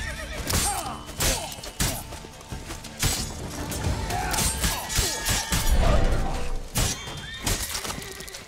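A horse in The Witcher 3: Blood and Wine whinnies amid busy game audio, with hoof clops and crashing combat sounds. The neigh rises loud over dense background noise.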